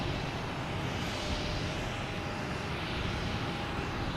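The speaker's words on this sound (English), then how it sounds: "the way the planes are taking off, they'll be taking off in front of us here" Airplane taking off at Boston Logan Airport, a continuous loud roar of jet engines with steady broadband rush, heard from nearby with no talk.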